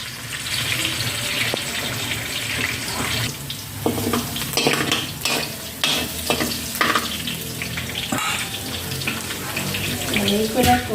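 Onion and garlic sizzle in a hot pan while a utensil scrapes and stirs in uneven bursts, with a steady frying hiss underneath and a brief voice partway through.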